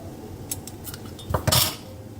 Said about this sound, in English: So I'm just going to place them in my jars all the way till it gets fit and snug.